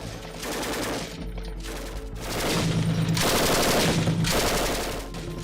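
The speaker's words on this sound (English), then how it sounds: "Rapid fire rent the air as KDF sentries step forward to defend their camps." Rapid automatic gunfire at a military camp in Somalia, with dense sustained bursts that swell and ease, loud and continuous, without any voices.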